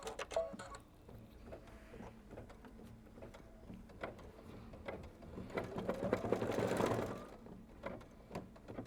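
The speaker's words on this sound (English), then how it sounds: "So I'm going to stitch that out." An embroidery machine stitches out a quilt design with quiet, rapid mechanical ticking of the needle, swelling into a louder whirring burst near the end, heard up close without talk.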